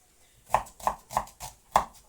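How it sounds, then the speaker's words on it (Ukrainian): Knife chopping onion on a board, five sharp distinct chops at a steady, slightly uneven rhythm, close and clear with no talk. "Ріжу цибульку"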